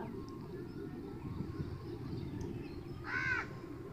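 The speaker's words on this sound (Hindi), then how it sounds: "साथ में जो परिंदों की आवाज़ें आ रही हैं" Birds call in a mango orchard village in Pakistan: a crow gives a single clear caw near the end over a steady outdoor hum, with no talking.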